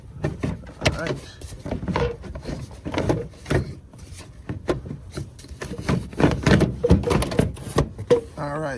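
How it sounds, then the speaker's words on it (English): Plastic scrapes, rubs and knocks sound close up as the airbox is worked loose by hand from a 2015-2020 Chevy Tahoe, in irregular bursts of handling noise that keep going throughout. "I'm gonna give it a try to see if I can remove the airbox without taking the lid off."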